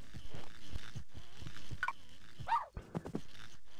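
A cartoon dog whimpers in the Petz 5 video game, thin rising whines and yelps scattered over a busy game soundtrack, faint and mixed in with other effects.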